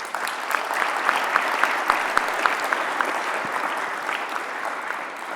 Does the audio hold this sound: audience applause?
yes